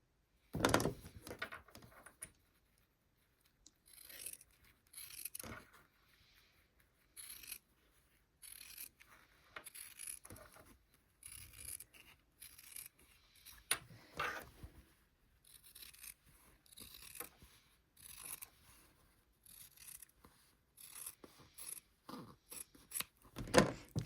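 Scissors cutting quilt fabric along a marked line, a series of quiet close snips and crisp slicing strokes with short pauses between them, in an otherwise silent room.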